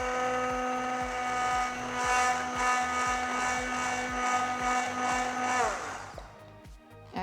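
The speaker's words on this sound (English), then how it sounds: "So now I'm going to blend my chocolate and cream until we get a nice emulsion." An immersion blender whirs steadily while blending chocolate and cream into a glaze emulsion, a sustained droning motor hum with fluttering texture that winds down and stops near the end.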